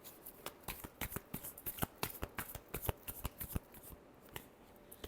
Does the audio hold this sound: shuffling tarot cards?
yes